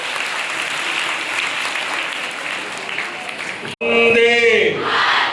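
Applause for the chief guest at a college event, a steady crowd clapping loudly for several seconds before a sudden cut to someone speaking into a microphone.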